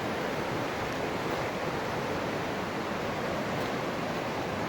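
Floodwater pours over riverbank edges and around submerged tree trunks, making a steady, dense rushing hiss that stays even throughout with no voices.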